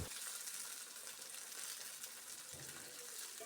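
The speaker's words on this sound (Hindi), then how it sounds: "अब हम कढ़ाई में ऑयल डालकर इसे गर्म कर लेंगे और इसमें भिंडी डाल देंगे" Okra frying in hot oil in a kadai, a continuous bright sizzle that stays even throughout, faint and fairly distant, with a soft thump partway through.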